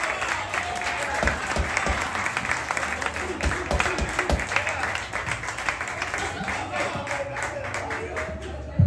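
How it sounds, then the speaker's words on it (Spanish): A crowd at a live salsa night in la placita de Santurce bursts into sustained applause, dense clapping close and loud throughout, with a voice speaking over it. "Fuerte el aplauso. Fuerte."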